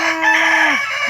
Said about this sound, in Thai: นี่เสียงไก่